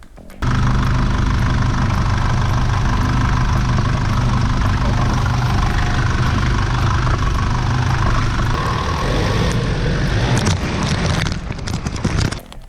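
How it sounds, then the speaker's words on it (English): Nissan GU Patrol 3-litre diesel with a straight-through exhaust, idling loud and close in a steady, coarse, flatulent rumble that sits on one note for several seconds before some clattering near the end. "I don't like the sound of a straight through exhaust on a 3-litre Patrol. It sounds like a fart."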